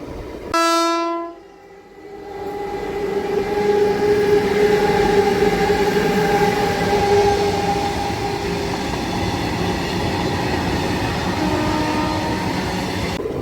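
A MEMU train pulls into Peddapalli junction with a short loud horn blast at the start, then a long, steady rumble and rolling wheel noise as it comes into the platform.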